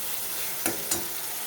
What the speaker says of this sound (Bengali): এবার টমেটোটাকেও আমি মশলার সাথে ভালোভাবে কষিয়ে নেব